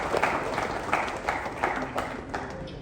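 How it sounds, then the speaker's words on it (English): Crowd at a forex millionaire expo applauding a named guest, uneven clapping in bursts over a roomy, murmuring background, moderately quiet. "A round of applause for Ayola."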